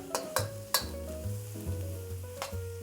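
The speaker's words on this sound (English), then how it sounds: "Then we add the bamboo and the mushroom, and we turn the heat up. We cook this for 2 minutes." Carrot, ginger, bamboo and mushroom stir-frying in a wok over high heat, a steady sizzle with a few sharp spatula scrapes and clanks against the pan, close and clear with no talk.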